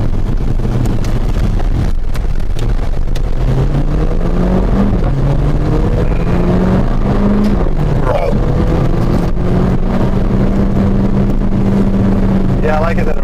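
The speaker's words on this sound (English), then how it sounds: "when you go into a curve, you give it a little gas, and it pushes right through with the back end" A 2017 Mercedes GLA45 AMG with 4MATIC powers out of a curve, its engine note climbing steadily and holding under loud, constant wind buffeting.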